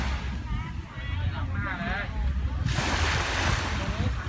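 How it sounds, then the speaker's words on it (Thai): Surf rolls in at Bangsaen Beach, a steady roar of waves with wind buffeting the microphone, swelling louder in the second half as a wave breaks close by; someone talks over the first part. "เสียงคลื่นซัดแบบนี้นะคะเพื่อนๆ"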